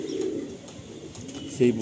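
Soft pigeon coos rise and fall over a low background murmur, close by and fairly quiet.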